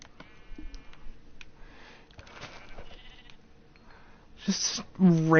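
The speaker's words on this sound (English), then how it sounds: "Just random grouping of sheep." Sheep bleating in the video game Minecraft, several short cries close by over soft game ambience and clicks, with two loud, clear bleats near the end.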